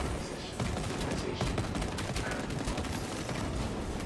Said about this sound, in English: we will just obliterate this guy even with a heavy bolt rifle